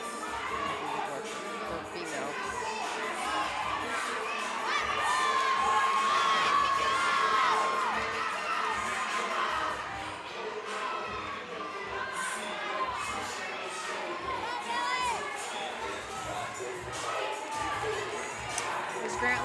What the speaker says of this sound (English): you heard his crowd right in front of him go wild